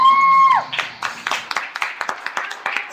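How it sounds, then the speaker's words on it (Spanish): Audience claps at a heavy metal rock show, a scattered run of sharp hand claps that follows a brief steady tone, fairly near and moderately loud, with no cheering on top. "Un aplauso, por favor, a Lila Chayla"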